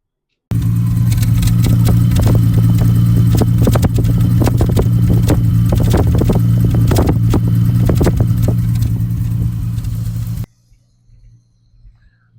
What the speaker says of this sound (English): Now let's get a listen to the exhaust.